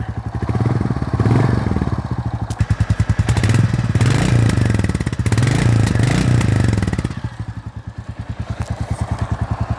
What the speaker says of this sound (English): So ultra throaty sound, that classic thumper sound of the single cylinder.